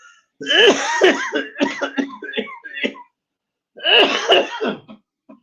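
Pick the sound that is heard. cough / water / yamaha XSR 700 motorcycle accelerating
cough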